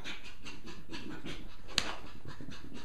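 Dog panting rapidly indoors while running around a room, a steady close rhythmic huffing with one sharp click or tap partway through, no talking.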